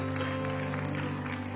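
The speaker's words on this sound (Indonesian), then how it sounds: "Kasih tepuk tangan dulu buat Tuhan." Congregation clapping during a church service, a brief, fairly quiet patter of many hands over a sustained keyboard or organ tone.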